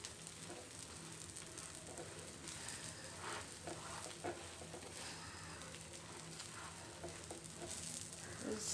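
A fluffy onion omelette fries in a pan with a faint, steady sizzle and crackle that runs unbroken throughout, quiet and without talk.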